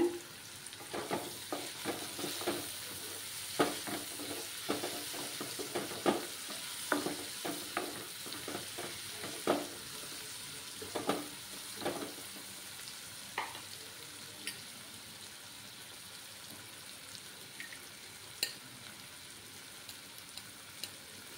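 Fish curry with turmeric powder being stirred in a pan, a soft steady sizzle broken by repeated rhythmic spatula scrapes and knocks, gradually settling into quieter frying.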